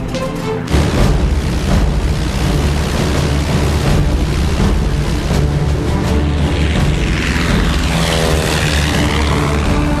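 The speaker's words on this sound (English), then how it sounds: "Now, Eleanor's going to take off in a 1940s biplane." A 1940s biplane takes off and flies, its propeller engine droning loudly and steadily throughout, with the pitch shifting as it climbs away.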